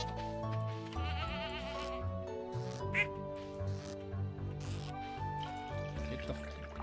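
A goat on a farm in the Stardew Valley video game gives a short, wavering bleat over cheerful background game music.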